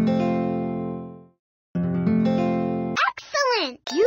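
A plucked guitar note rings out clearly and sustains, then decays in an instrument guessing game, followed by another strummed tone and brief high synthetic chirps.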